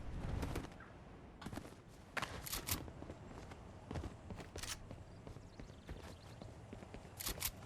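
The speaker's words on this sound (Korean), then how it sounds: "발소리!" Footsteps during a game show: several scattered thumps and scuffs on a hard floor, fairly close, set against low background noise.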